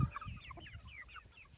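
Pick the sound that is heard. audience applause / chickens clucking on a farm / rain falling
chickens clucking on a farm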